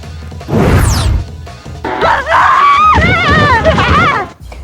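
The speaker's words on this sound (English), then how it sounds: "I like rolling the people up. Their screams are funny." People screaming as they are rolled up in Katamari Damacy, several short high-pitched cartoonish yelps and wavering cries following a crashing thud, loud and close in quick succession.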